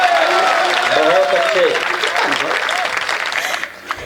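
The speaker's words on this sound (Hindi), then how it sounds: "ताली बजा मेरे यार।" An audience bursts into applause, loud and close at first, then fading toward the end, while a person speaks briefly over the clapping.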